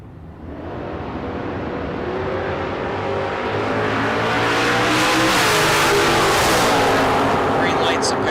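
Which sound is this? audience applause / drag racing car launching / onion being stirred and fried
drag racing car launching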